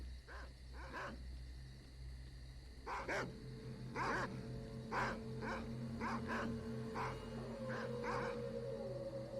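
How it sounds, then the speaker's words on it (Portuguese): Dog barking in the S.T.A.L.K.E.R.: Call of Pripyat video game, a stray dog giving repeated sharp barks in irregular bursts over a steady low ambient drone, with a faint tonal whine rising in the background. "Sai daí, cachorro vira-lata."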